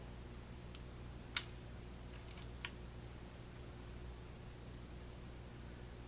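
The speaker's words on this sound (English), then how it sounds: "I do hear hissing" Faint, steady hiss from the earphone of a Zenith 500D radio under repair, continuous and even, with a couple of small ticks and clicks standing out.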